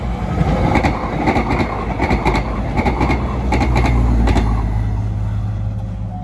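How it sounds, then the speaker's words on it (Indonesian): A Bandara Merah train passes PJL 714 Sedayu level crossing, a loud steady rumble with rhythmic clicking of wheels over rail joints and creaking, close by and fairly constant throughout. "Dan yang selanjutnya melintas adalah kereta api Bandara Merah."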